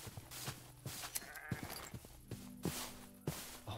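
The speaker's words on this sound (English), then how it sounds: "Oh my gosh, there's so many sheep." Sheep in the video game Minecraft bleat in several short, faint calls scattered over a few seconds, mixed with soft game clicks and steps.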